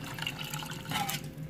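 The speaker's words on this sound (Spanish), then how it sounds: "Le echan agua" Water pours steadily into a pot of pineapple pieces for homemade pineapple yogurt, a continuous close splashing fill with no talk.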